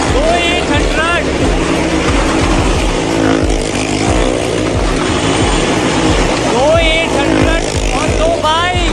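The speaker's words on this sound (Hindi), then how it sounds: "ओ यार एक और मारुति भाई साहब, वो 800" A Maruti 800 car circling the wooden wall of a well-of-death show at a fair in Mandi, its engine droning loud and continuous with rising and falling revs, motorcycles mixed in, under excited crowd talk.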